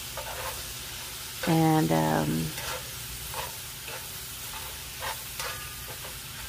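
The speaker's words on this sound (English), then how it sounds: "Add in your sliced onion." Sliced onion dropped into a hot pan gives a short burst of loud sizzling and frying, then fades to a quieter background sizzle with a few clinks in a home kitchen.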